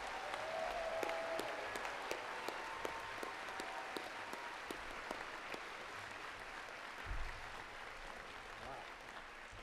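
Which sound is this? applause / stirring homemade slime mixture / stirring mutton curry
applause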